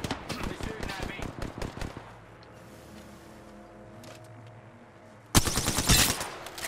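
Bursts of rapid automatic gunfire in the Apex Legends battle royale, loud and close. A burst of about two seconds is followed by a quieter lull and then another sharp burst near the end.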